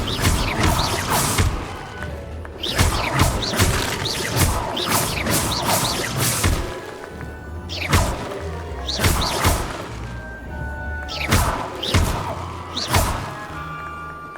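Repeated Incendio fire-spell casts in Hogwarts Legacy land as a string of loud, punchy bursts and thuds, about a dozen spread across the stretch, with ambient game noise between them.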